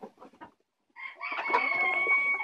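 Kotlyarevskaya breed chickens on a farm give a few short clucks, then a rooster crows loudly and close by, its long call sustained to the end.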